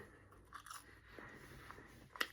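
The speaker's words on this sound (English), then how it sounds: "I'm chewing and chewing for like 10 to 30 seconds every bite" Quiet, close chewing of Taco Bell food, a tortilla shell with meat and beans, soft crunches and wet bites in an uneven rhythm, with one sharper crunch near the end and no talking.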